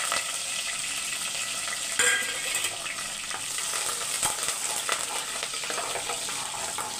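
Mathi fish kuzhambu tempering of small onions, green chillies and curry leaves frying in a pan: a steady, close, bright sizzle with crackling, continuous throughout, with one louder burst of spattering near the start.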